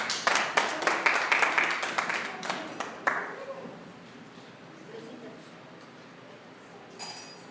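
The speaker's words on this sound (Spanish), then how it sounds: "Denle un aplauso al Señor" A church congregation claps in brisk, uneven applause for several seconds, then it fades to quiet room tone with faint voices and a brief clink near the end.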